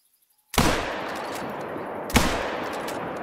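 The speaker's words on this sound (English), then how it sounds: "I'm going for the shot." Two loud rifle shots in a hunting video game, fired at a gemsbok on Vurhonga Savanna, the first cracking out of silence and the second about one and a half seconds later, each trailing into a long rolling echo.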